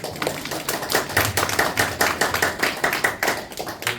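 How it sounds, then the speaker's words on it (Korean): An audience at a lecture applauds steadily for about four seconds, a dense patter of many hands clapping at once, with no voices on top. "박수 한번 부탁드립니다."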